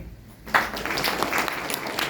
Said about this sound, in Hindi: ये तीनों आ गई, ताली बजाओगे?